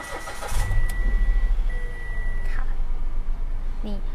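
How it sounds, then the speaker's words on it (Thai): A Mitsubishi Mirage 1.2 GLX automatic engine cranks and catches, then settles into a steady idle close by, with a few chimes and beeps sounding over the running motor. "ขอสตาร์ทให้ได้ยินเสียงเครื่องยนต์กัน"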